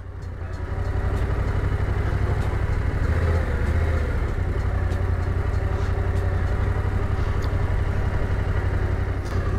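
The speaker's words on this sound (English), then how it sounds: "work the friction zone with the clutch to keep the bike upright" An adventure motorcycle putters at slow speed while turning with the clutch slipping, a loud, steady low thrum with a fast even pulse close by.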